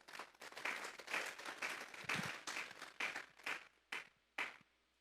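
Congregation clapping at a church service, a faint ragged burst that thins into a few separate final claps.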